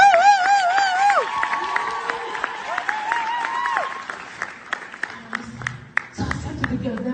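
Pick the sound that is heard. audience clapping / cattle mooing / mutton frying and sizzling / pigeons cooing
audience clapping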